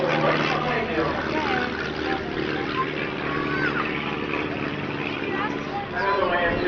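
A propeller plane taking off at an air show at Torrance Airport, California, in 1996, its engine a steady loud drone that fills the clip, with a crowd or wind noise mixed in.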